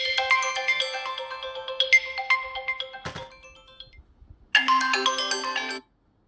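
Melodic phone ringtone from an incoming call, loud and close, chiming in repeated bursts for several seconds, breaking off briefly and then sounding again before stopping.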